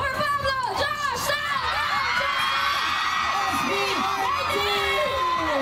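A concert crowd at a show at Pepsi Pulse 2023, MOA Concert Grounds, cheers and screams continuously, with high shrill whoops and yells rising over a dense, loud roar.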